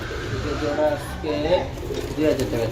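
Pigeons coo nearby in soft, repeated throaty bursts, about three calls, mixed with people talking at a pigeon market.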